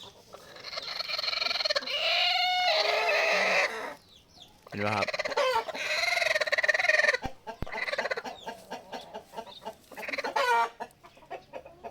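Thai fighting chickens cluck and crow loudly and close by, with a brooding hen among them, in overlapping repeated calls while someone speaks briefly.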